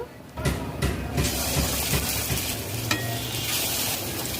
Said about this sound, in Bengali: কড়াইতে ভাজার জন্য সাদা তেল দিয়েছি তেল গরম হয়ে গেছে বেসনের গোলার মোচার পুর দিয়ে ভেজে নেব